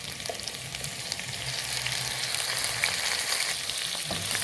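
Tomatoes frying in a pot for beef stew, a steady broadband sizzle that builds slightly and holds, with low stirring rumbles underneath and no talking.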